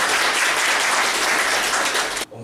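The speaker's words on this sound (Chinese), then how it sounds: "大家热烈掌声" An audience at an event applauds with a full, dense burst of clapping that holds steady for about two seconds and then cuts off abruptly.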